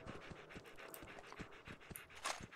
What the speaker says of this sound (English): What, dog?